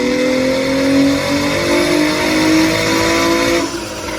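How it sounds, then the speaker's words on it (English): A 300-horsepower 2007 Acura TL Type S revs hard on a dyno, its engine note loud and sustained, rising steadily before easing off near the end. "his 300 horsepower 2007 Acura TL Type S on the dyno"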